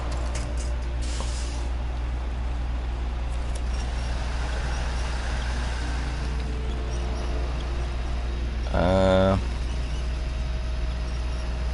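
A heavy truck engine drones steadily in SnowRunner as it strains downhill, a constant low rumble broken by a brief harsh buzzing whine near the end.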